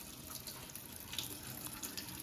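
Water poured out of a pot while rinsing rice, a steady splashing stream into a sink, continuous and close with no talking.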